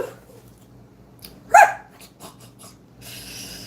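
A dog gives one short, sharp bark amid a few soft snuffling and breathing sounds, heard nearby in a quiet indoor room.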